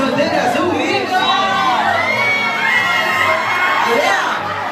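A crowd of single women at a festive birthday party lets out a loud, sustained chorus of high-pitched shouts and whoops, rising and falling in overlapping waves close by.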